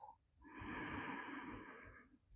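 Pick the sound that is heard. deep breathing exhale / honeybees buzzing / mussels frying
deep breathing exhale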